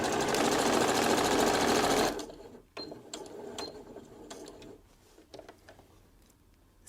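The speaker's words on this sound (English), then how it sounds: "then do the same and sew all the way along this end" A sewing machine stitches a straight seam along the edge of a reusable facial cleansing pad, running loud and steady for about two seconds, then falling to faint clicks and mechanical taps as it stops.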